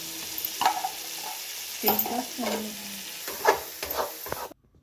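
Thick green chillies frying in oil, a soft sizzle under intermittent spatula scrapes and knocks against the pan, cutting off abruptly at the end.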